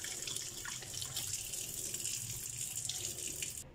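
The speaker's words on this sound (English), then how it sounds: "So you can see when you open the toilet seat, you get sprayed with water." A prank toy toilet sprays a steady hissing jet of water when its lid is lifted, close and faint, with no talking.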